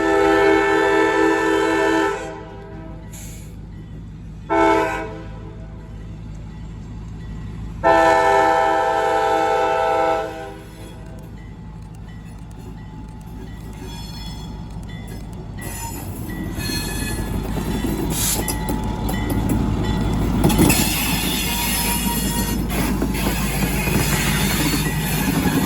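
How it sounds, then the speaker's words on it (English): CSX geometry train passes with several long, loud horn blasts separated by gaps, followed by a building rumble of wheels and rolling stock growing nearer and louder. "Here we have the CSX Geometry train."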